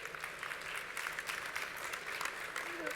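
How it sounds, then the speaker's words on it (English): Audience at a career fair main stage applauds a keynote speaker, a steady, even wash of clapping from many hands, heard faintly and at a distance throughout. "Please give Mike Furlong a big round of applause."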